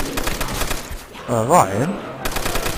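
Rapid gunfire from a Magnum revolver in World at War Zombies on Nacht der Untoten, a dense burst of shots that drops away briefly while a voice speaks, then resumes loud and close.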